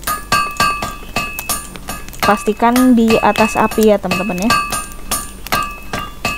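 Repeated metallic clinks of a hammer striking metal while crafting in the video game Fortnite Save the World, sharp regular hits with someone talking over them in the middle.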